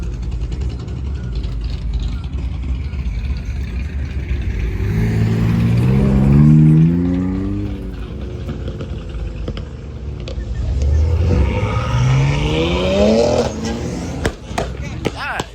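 A Dodge Demon 170 at a car meet revs its engine twice in loud rising bursts, the second after a short idle, amid crowd noise and people talking nearby.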